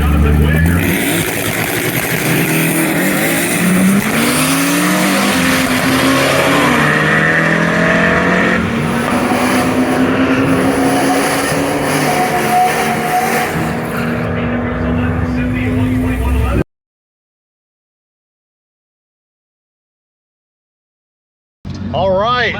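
A 1964 VW Karmann Ghia drag racing car roars down the strip, engine loud and rising through gears for about sixteen seconds, with voices talking over it before it cuts out abruptly.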